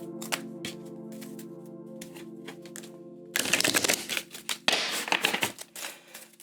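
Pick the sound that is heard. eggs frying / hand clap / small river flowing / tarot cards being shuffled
tarot cards being shuffled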